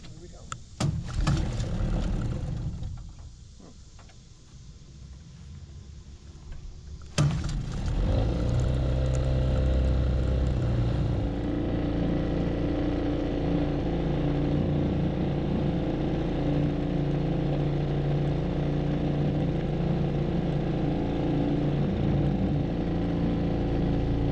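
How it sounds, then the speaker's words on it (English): A used outboard motor on a boat cranks, catches and settles into a steady running drone that continues loudly to the end, with a voice talking early on. "whenever I was ready to start the engine, hopefully it would start up right away"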